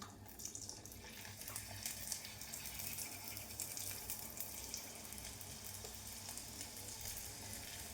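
Papadam-wrapped samosas fry in hot oil, giving a faint, steady bubbling sizzle that continues evenly without speech.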